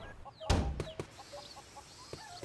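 A chicken clucks in short, quiet bursts in the Boku no Natsuyasumi 3 video game, soft farmyard calls spaced across a calm background.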